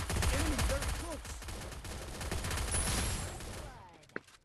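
Rapid automatic gunfire rattles loudly and continuously in a Free Fire Clash Squad 4v4 match, with a voice speaking over the shots before the burst fades and a single sharp crack lands near the end.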